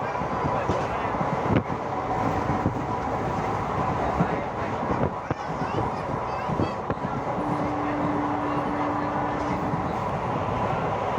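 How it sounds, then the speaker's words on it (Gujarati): A Rajkot–Gandhinagar–Veraval local train passes at a station crossing, a steady loud rumble of rolling wagons with clattering wheel bursts and a brief horn-like tone near the end, under background voices. "તમે જોઈ શકો છો ત્રીજી ગાડીનું crossing, Rajkot Gandhinagar Veraval local train."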